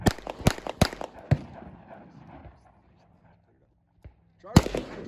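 Rifle shots crack in quick succession at a rifle training range, several sharp reports followed by a fading echo, then a lone faint shot and another loud blast with people talking nearby.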